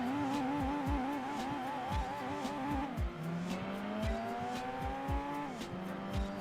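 A race car engine in Gran Turismo 2 revs and accelerates through the gears, pitch climbing and dropping at each shift, with repeated short tire squeals over the steady motor.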